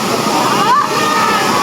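A mountain waterfall where people are bathing roars loud and close as a constant rushing wash of falling water, with voices talking over it.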